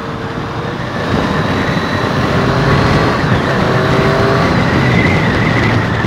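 A Triumph Street Triple 765 R motorcycle engine revs to about 5500 RPM while riding in Road mode, a steady loud roar that swells after the first second and holds with wind rush.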